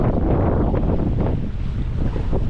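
Heavy wind buffets an engineless sailboat tacking to windward toward Pocosin, a constant low roaring rumble with water washing against the hull and no talking.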